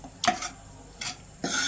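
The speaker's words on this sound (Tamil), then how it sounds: "சும்மா கரண்டியாலே மசிச்சாலே போதும்." Cooked dal mashed with a ladle in a pot for sambar, three short bursts of scraping and squishing strokes, close and fairly quiet, with pauses between them.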